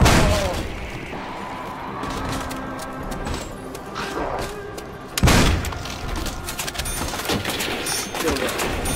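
Heavy gunfire from a pump shotgun fired again and again in a 12-year-old video game: dense, overlapping booms and thuds with a louder blast around the middle and a busy, cluttered bed of game noise throughout.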